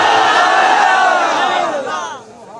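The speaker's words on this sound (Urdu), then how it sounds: "بچہ آج لبیک یا رسول اللہ کے نعرے لگا رہے ہو" A large crowd at a TLP religious conference in Sharaqpur chants Labbaik Ya Rasool Allah in one loud, unified roar. The sustained voices swell together, then taper off near the end.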